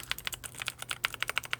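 Close, crisp clicks of quick typing on a lubricated blue-switch mechanical keyboard, a rapid uneven run of keystrokes with no talking.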